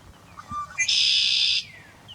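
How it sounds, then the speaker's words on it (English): Male red-winged blackbird calling in a wetland: a short chirp, then a single loud, buzzy, sustained trill about a second long, close and clear against quiet surroundings. "that call you hear is the call of the male red-winged blackbird"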